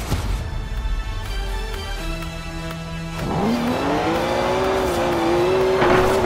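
A BMW 1M in the racing game Forza Horizon 4, its engine droning and then revving up into a rising, sustained whine as the car accelerates, loud and continuous throughout.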